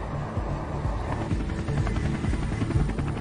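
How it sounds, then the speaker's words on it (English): Apache attack helicopter in flight, a steady rotor drone with rhythmic low thumping that holds at an even, moderately loud level throughout. "30-year-old Army pilot David Williams flies his Apache attack helicopter toward Karbala, a key access point to Baghdad"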